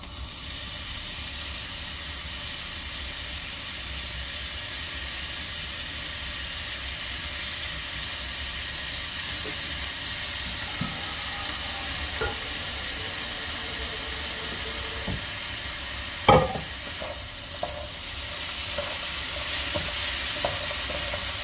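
Chicken rice base sizzling and frying in a pan for Hainanese chicken rice, a steady hiss with occasional stirring clinks and a louder scrape near the end, no talking.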